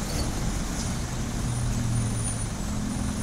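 Kurnia Bakti economy AC bus number 23, running from Jakarta to Garut, rumbles steadily at the Padalarang toll gate, a constant close engine drone with a faint high tone above it.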